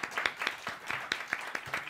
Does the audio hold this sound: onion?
no